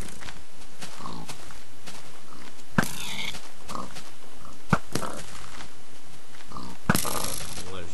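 Pigs oink repeatedly in a Minecraft game, short grunts scattered across the stretch over a busy background of game noise and a few sharp clicks.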